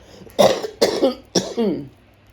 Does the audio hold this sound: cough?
yes